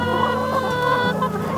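Chickens clucking inside a farm chicken coop, a dense, continuous chorus of close clucks and calls with no talking.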